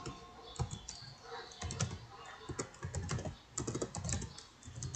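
Rapid, uneven keystrokes clatter on a computer keyboard, close and fairly quiet, with clustered bursts of clicks and brief pauses between runs and no voices.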